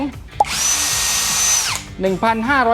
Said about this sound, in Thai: สว่านแบตเตอรี่ไร้สายของแบรนด์โอซูกะนะครับ